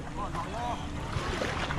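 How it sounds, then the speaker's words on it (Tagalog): Wind rushes over the microphone near open water, with a low steady rumble as someone speaks. "Malakas ang hangin eh."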